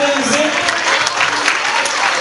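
Young children give a steady round of close clapping to welcoming guests, including Ertuğrul Sağlam, with a faint murmur of voices underneath.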